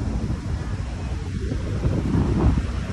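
Wind buffeting a microphone at Manila Bay's dolomite beach on a hot day, a steady broad rushing roar with gusts swelling louder toward the end, heard alone.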